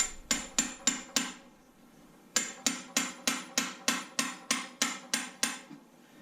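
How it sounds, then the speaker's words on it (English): A hammer taps lightly on a spring-loaded gear shift part of a Yamaha V Star motorcycle: a quick run of five sharp metallic knocks, a short pause, then about nine more evenly spaced taps, close and clear. "I'm going to twist it the way it goes in and tap it with a hammer"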